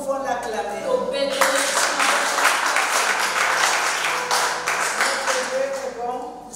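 A church congregation at a Wednesday prayer meeting breaks into sustained, loud applause, dense clapping lasting several seconds before thinning out, with a voice speaking before and over it.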